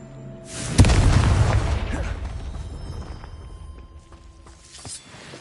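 A Confringo spell explosion in the Hogwarts Legacy video game, one loud booming blast with a sharp crack at the start and a long rumbling decay that fades over several seconds.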